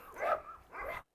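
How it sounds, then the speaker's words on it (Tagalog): A dog, either a Cane Corso or a Doberman, lets out two short vocal bursts that sound like barking mixed with whimpering. The sound is close and moderately loud, and then it stops. "Masunuring aso, masunuring talaga."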